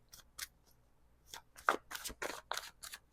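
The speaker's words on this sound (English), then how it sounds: "One more shuffle." Tarot cards are shuffled in a series of crisp, separate snaps and flicks, sparse at first and then faster and denser, heard up close in a quiet room.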